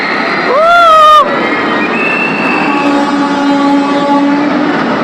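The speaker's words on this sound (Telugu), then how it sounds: "బరంపూర్ ఉజ్జాన్ వందే భారత్. హాయ్ బనా పలాస రైల్వే స్టేషన్కి వచ్చింది." The Vande Bharat Brahmapur–Udhna inaugural special pulls into Palasa railway station with a brief loud horn blast followed by sustained high tonal whine and rumble of the arriving train.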